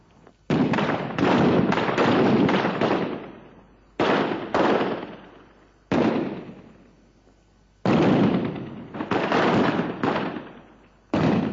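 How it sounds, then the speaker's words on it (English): Mock western shootout with guns staged by grown men behind a warehouse in Manchester in 1967: bursts of sharp, rapid cracking shots in clusters, separated by short pauses, fairly close and loud, no talking. "they shoot it out with friends behind a warehouse in Manchester 14."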